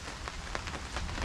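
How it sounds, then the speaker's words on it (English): Heavy rain falls steadily during flooding conditions, a dense close patter and hiss with no pause across the short moment. "It has rained all day."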